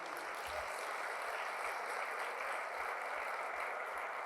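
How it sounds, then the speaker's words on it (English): Faint, distant applause for awards honorees rises as a soft, even wash of many clapping hands in a large room, steady and unbroken for a few seconds. "can we have another round of applause for our honorees?"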